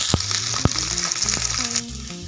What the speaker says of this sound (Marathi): कांद्याचा कलर चेंज होईपर्यंत आपल्याला कांदा परतून घ्यायचा आहे